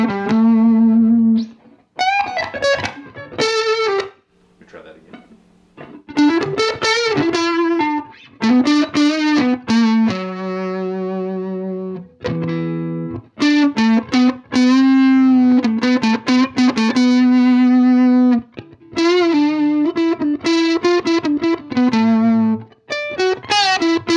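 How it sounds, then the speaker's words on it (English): An electric guitar played through a Fender 5F1 Champ amp at full volume rings out in a string of sustained single notes and bends, with short pauses between phrases and almost no background hum. "And as you can hear, at max volume, there's barely any hum on this amp. It's super clean sounding."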